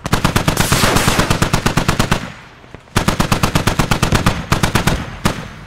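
Rapid bursts of artillery fire in a Scorched Earth squad match, loud, closely spaced booming reports in two long volleys separated by a short pause, ending with a few isolated shots.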